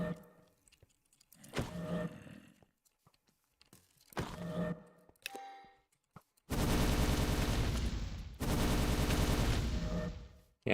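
A shotgun-like weapon fires in the video game Elmguard: a few short bursts with gaps between them, then two long, loud, sustained blasts of dense noise near the end.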